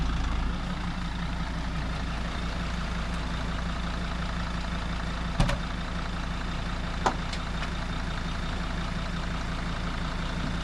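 Heavy truck engine idling and rumbling steadily at a constant distance, a low continuous drone arriving with a 1NTS-2 trailer, broken by a couple of brief clanks.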